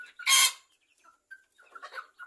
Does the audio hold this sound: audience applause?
no